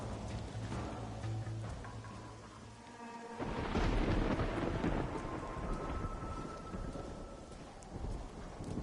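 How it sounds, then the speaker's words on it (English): A thunderstorm in the Red Dead Redemption video game: a loud thunder crash rolls in over steady heavy rain, which keeps pouring and drumming continuously afterward, with no voices. "Storm's getting worse."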